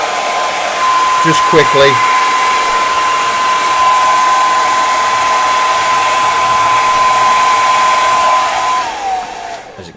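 A hair dryer blows hot air over a 3D-printed model to melt away stringing, giving a loud, steady whine that runs almost the whole time before cutting off, with a brief voice near the start.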